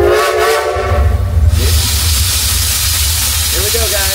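A theme park steam train at Silver Dollar City in Branson, Missouri sounds its whistle as it departs, a loud, close, sustained whistle tone over a deep chugging rumble, with voices heard briefly in the noise.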